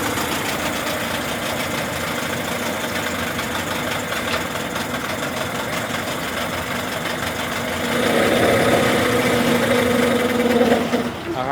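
A Japanese Tohatsu 18 outboard boat motor with a dirty carburetor idles steadily at close range, a continuous mechanical chatter that swells and grows louder partway through before easing near the end.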